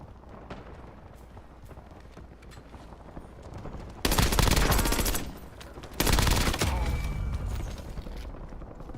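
Heavy automatic gunfire in Call of Duty Warzone at Verdansk comes in two loud, dense bursts over a rumbling battlefield background.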